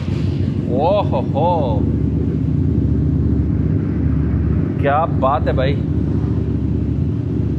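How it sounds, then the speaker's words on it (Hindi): A Jonway 400cc V-twin motorcycle with dual exhaust idles steadily in a deep, continuous rumble, with two short throttle blips cutting through and someone speaking over it. "ये बाइक रेडी है स्टार्ट होने के लिए, तो क्यों ना हम इसे स्टार्ट करके पहले इसकी साउंड चेक कर लेते हैं"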